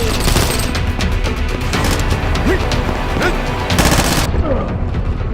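Heavy, dense gunfire and crashing impacts fill a match of the shooter game Combat Master, with overlapping rapid shots at close range and no break in the noise.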